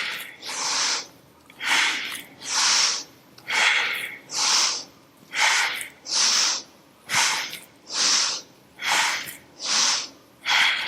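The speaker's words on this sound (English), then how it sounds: "It's dynamic on the exhale, all in and out through the nose." Forceful nasal breathing during a traditional hatha yoga practice: about twelve sharp, even in-and-out breaths through the nose in a steady rhythm, close and loud, with no talking.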